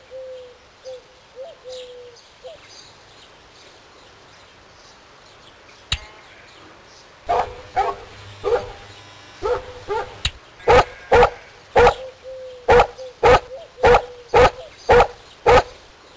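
A dog in The Animals of Farthing Wood PC game barks in a fast, sharp run of about a dozen loud, close barks, after a stretch of quieter bird-like cooing.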